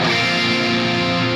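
A sustained, distorted electric guitar chord rings out loudly and steadily, its upper note slightly off and beating against the others.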